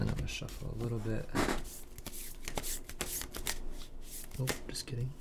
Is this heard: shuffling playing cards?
yes